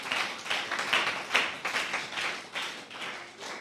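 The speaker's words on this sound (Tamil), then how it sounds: "கைத்தட்டி ஆண்டவருக்கு மகிமை செலுத்துங்க." A church congregation claps together during a Sunday service, a roomful of hands striking in a loose, rhythmic beat, about two claps per second, with no voices over it.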